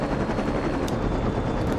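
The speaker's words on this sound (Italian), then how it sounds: "la guida con gli elicotteri è terribile su Sentro 2, veramente" Helicopter flying in Saints Row 2, a steady loud rotor thrum and whine filling the whole moment without pause, with a faint rattle of gunfire mixed in and no talking.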